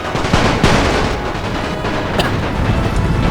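Dense, continuous massed musket and rifle fire from a large infantry battle in a strategy video game, with several hundred soldiers firing into one area, a loud rolling crackle that never lets up.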